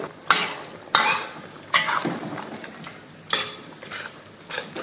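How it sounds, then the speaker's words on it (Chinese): Chopped celery, chili and scallion whites tipped into an iron pot of braising chicken, heard as a series of sharp metallic clanks and scrapes of utensil against pot at uneven intervals, close and moderately loud. "最后将切好的芹菜段、辣椒段，还有葱白段全部倒入锅中"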